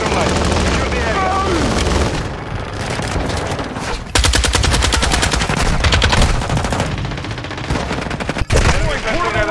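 Rapid automatic rifle bursts from the Lachmann 762 in Modern Warfare II multiplayer, dense loud strings of shots with brief gaps and a few sharp heavier bangs, layered under game voice callouts and battle noise.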